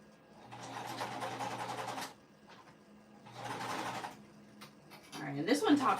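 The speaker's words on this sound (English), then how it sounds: "I'm going to top stitch this one again" Sewing machine top stitching a small pet bandana, two steady runs of stitching separated by a pause, with a brief clatter of handling at the end; no talk over it.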